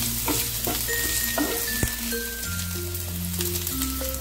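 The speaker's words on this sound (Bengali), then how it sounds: "আদা রসুনগুলোকে একটুখানি ফ্রাই করে নেব, যাতে কাঁচা গন্ধটা চলে যায়" Ginger and garlic sizzle and spit steadily in hot oil in a pan, a continuous close frying hiss with occasional stirring scrapes, while background music plays.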